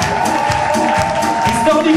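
An audience at the P'tites Lessives 2014 urban chanson concert applauds and cheers. The steady, dense crowd noise of clapping and whooping voices stays loud and continuous throughout.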